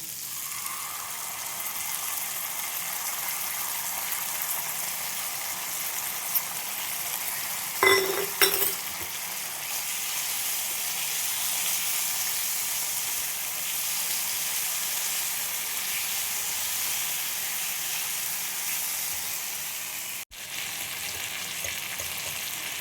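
Sauce poured into a pan of frying chilli prawns, a steady loud hiss of sizzling that holds throughout, with a brief burst of clatter and bubbling partway through.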